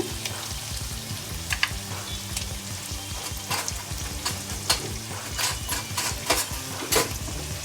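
Spices fry in oil for ripe mango gojju, giving a steady close sizzle with a busy crackle and repeated light spoon and pan taps, and no talk.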